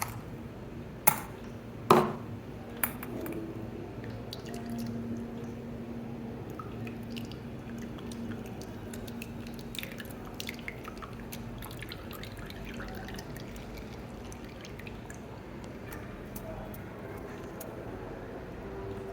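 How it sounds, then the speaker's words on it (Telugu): Ground onion juice is filtered, with a few sharp drips and squishes at the start and then a faint, quiet trickle over low background noise. "ఇప్పుడు ఈ ఆనియన్ జ్యూస్ని ఫిల్టర్ చేద్దాం"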